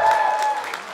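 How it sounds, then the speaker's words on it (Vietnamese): Concert audience applauding a band at the close of a live show, a brief dense burst of clapping with a sustained ringing tone from the stage sound system running through it. "một tràng pháo tay nữa cho anh em ban nhạc hôm nay quá nhiệt cùng với chúng ta"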